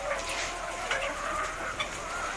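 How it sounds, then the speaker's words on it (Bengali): White layer hens clucking inside a dim, bamboo-walled poultry shed, soft scattered clucks and chirps rising over a low steady hum, several birds close by with no talking. "এই সাইডে মুরগি"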